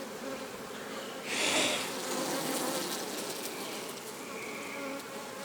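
Honeybees buzz in a steady drone at an opened hive during a frame inspection. One bee passes close and loud for a moment before the swarm's even hum settles back.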